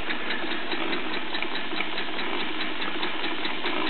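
A Bowman M101 model steam engine chugging along indoors, a fast, even chuffing from its long-stroke piston over the continuous whir of a counter shaft, close and steady.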